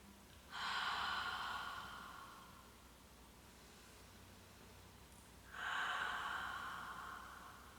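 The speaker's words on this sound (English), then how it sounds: "Let's do a couple more breath cycles." Slow breaths during a vinyasa yoga flow, two long airy exhales several seconds apart, each swelling and fading, close and soft over a faint hiss, with no talking.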